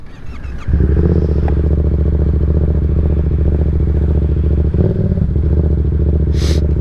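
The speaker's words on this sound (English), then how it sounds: "Let's get some wheelies done." A motorcycle engine fires up after a short clatter and settles into a loud, close, steady throbbing rumble that holds for the rest of the stretch, ahead of an attempt at wheelies.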